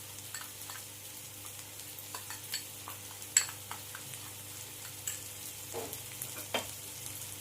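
Masala and onions frying in a pan for a prawn dish, with a steady low sizzle and intermittent scraping clicks of a spoon stirring, close and moderately quiet, no talking.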